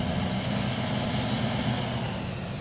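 Chevy Silverado truck engine in a video game, a loud continuous rumbling drone held steady and close with no pauses.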